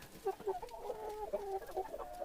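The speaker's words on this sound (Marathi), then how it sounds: "तर ह्या आहेत आमच्या कोंबड्या." Several free-range village-style backyard chickens cluck and murmur nearby in short, uneven bursts, a soft chattering flock with no other sounds.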